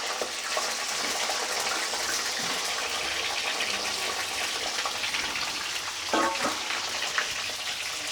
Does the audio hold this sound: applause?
no